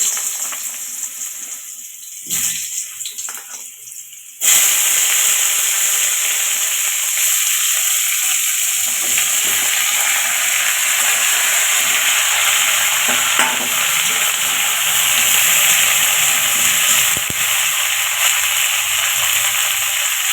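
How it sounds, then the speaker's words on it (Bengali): Vegetables hit hot oil while a bata fish dish is being cooked: a quiet start, then a loud, continuous close-up sizzle and crackle that holds steady for a long stretch. "ওই তেলেতে সবজিগুলো দিয়ে দিচ্ছি"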